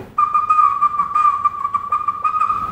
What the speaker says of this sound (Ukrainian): Бабусі та дідусі каже Любомир Кушлик, зможуть і самі заграти на оригінальних свистульках і навчити цього своїх внуків та правнуків.